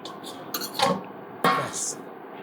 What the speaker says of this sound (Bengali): আমি হালকা করে ঢাকা দিয়ে দিলাম